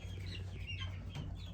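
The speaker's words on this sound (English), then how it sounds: "Just wanted to get you guys a good look at the birds." Farm chickens cluck softly in short bursts against a steady low hum, with several birds calling close by and no talk.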